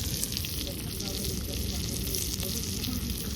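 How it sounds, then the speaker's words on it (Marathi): Steady, dense sizzling of chicken frying on a hot griddle, continuous and fairly close with no talking. "चिकन एकदम प्रॉपर जे तवा फ्राय करायला घेतले"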